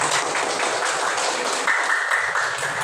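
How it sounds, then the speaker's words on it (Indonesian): A classroom of students applauding, with steady dense clapping at moderate loudness that holds for a few seconds and fades slightly toward the end. "Tepuk tangan dulu yuk"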